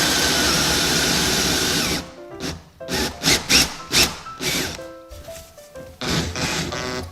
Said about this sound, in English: and then you need to drill down